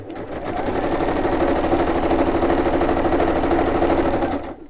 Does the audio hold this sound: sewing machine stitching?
yes